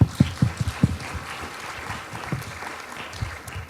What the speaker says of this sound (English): Ladies and gentlemen, let's give them a warm round of applause once again.